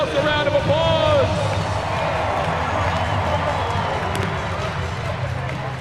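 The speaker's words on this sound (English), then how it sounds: "Give yourselves a round of applause." A full-capacity crowd at the Kansas City Royals MLB stadium applauds during a Savannah Bananas game, a sustained dense roar of clapping and cheering with a voice briefly heard at the start.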